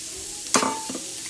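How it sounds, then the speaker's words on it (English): Onions, garlic and carrots hit a hot pan or Dutch oven with a sudden burst of sizzle that quickly settles into a softer, steady frying hiss with a brief stir, heard close and alone. "Now we're going to add the onions, garlic, and carrots to the pan"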